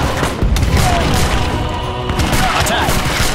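Cannons fire in Age of Empires III Definitive Edition during the Saratoga battle, a loud, close barrage of overlapping booms and rumbling blasts that never lets up.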